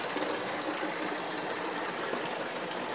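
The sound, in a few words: water flowing from a mountain spring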